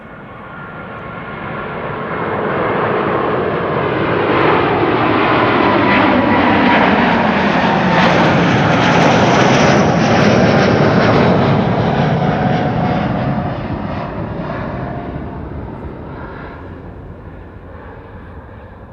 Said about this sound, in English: This is Delta Airlines 135 going to Detroit, Michigan. A330neo